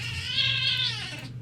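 A kitten gives one drawn-out whining meow while play fighting, close and fairly loud over a low steady hum, lasting about a second before trailing off.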